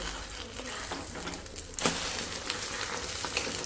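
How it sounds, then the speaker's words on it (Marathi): An egg fries in a pan with a little masala on top, giving a continuous soft sizzle and crackle at close range with a brief louder spatter partway through, and no talking. "अंडा फ्राय करायला घेतलाय आहे"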